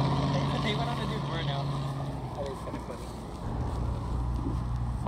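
Truck engine revving hard during a burnout at a car show held at an old skating rink, a loud steady droning roar with a brief dip midway before surging again, crowd voices underneath.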